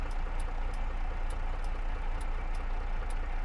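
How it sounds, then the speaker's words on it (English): A vehicle turn signal in Farming Simulator 22 sounds as a steady series of short, evenly spaced beeps over a loud, constant engine drone. "Oh, nope, it just makes the beeping noise."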